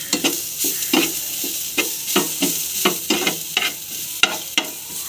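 Onion frying with turmeric powder in a pan, the sizzle steady and close while a spoon scrapes and stirs in repeated sharp strokes about twice a second.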